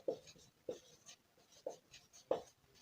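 A maths equation being written out by hand: four short, quiet scratchy strokes spaced at a steady rhythm, heard alone and close up.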